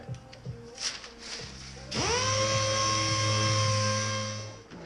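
A dual-action sander on car paint whirs up to a steady, high-pitched whine and holds it for several seconds, loud and close, after some quieter clatter.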